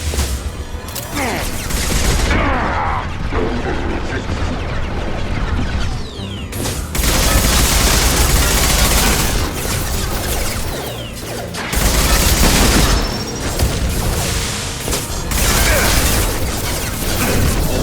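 Heavy gunfire in the Mass Effect 2 video game, with sustained loud bursts of automatic fire and crashing impacts in long near-continuous volleys, sometimes broken by brief pauses and at times mixed with voices.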